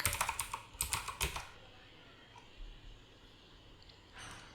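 Fast burst of computer keyboard typing up close, the clicks bunched in the first second and a half, then a quiet room and one brief final tap of keys.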